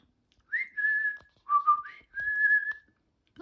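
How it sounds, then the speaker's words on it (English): A ROPET AI companion robot whistles back, giving a few clear, close, tonal whistle notes with short gaps between them, some sliding and some held, against near silence. "That's what she does when she whistles back to you."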